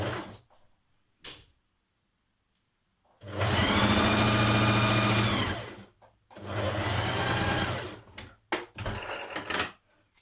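Darts on the back pieces of a Burda 6320 dress being stitched on a sewing machine: two long, loud whirring bursts of rapid stitching, with short pauses and handling clicks around them.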